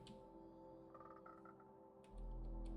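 A single frog in Minecraft gives a few short, faint croaks over quiet ambient game sound, ending in a sudden low rumble.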